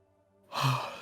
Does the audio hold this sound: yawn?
yes